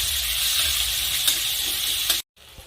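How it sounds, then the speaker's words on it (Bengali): Chopped onions dropped into hot oil give a loud, dense, continuous sizzle up close, hissing steadily before cutting off abruptly near the end. "এখন আমি কুচিয়ে নেওয়া পেঁয়াজ দিয়ে দিচ্ছি। নেড়ে চেড়ে পেঁয়াজ আধা করে ভেজে নেব।"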